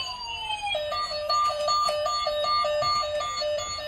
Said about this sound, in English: police sound.